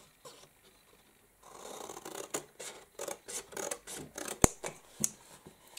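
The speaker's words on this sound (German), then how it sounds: "Und die schneide ich mir einfach nur schön an der Falzlinie hier ein." Scissors cut into folded card along a fold line while crafting a gift box, giving a close, steady run of rasping snips that grow busier and louder after a quiet start.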